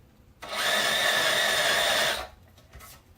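A power drill whirs steadily for about two seconds while countersinking a screw hole in a lower torso assembly build, spinning up quickly and stopping abruptly in a quiet workshop.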